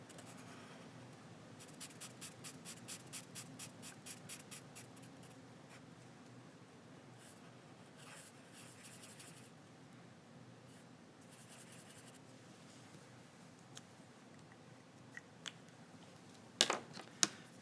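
Pen nib scratching across paper during straight-lettering practice, a rhythmic run of short strokes early on, then quieter sparse drawing with a few small taps near the end, close and faint in a still room.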